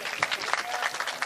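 Audience applause at a kavi sammelan and mushaira poetry gathering, a short, steady patter of many hands clapping at moderate loudness.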